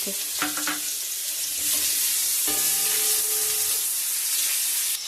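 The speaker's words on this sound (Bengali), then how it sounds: "আমি গ্যাসটা একদম লো ফ্লেমে দিয়ে উচ্ছেটা ভেজে" Bitter gourd frying in oil on a low flame, giving a steady, close sizzle with some clattering of a stirring utensil near the start, continuous throughout.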